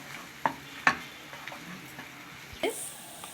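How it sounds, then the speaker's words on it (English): Boiled potatoes being mixed into a samosa keema filling in a pan, with soft scraping and a few sharp spoon knocks over a faint sizzle, close and quiet. "Mix it nicely."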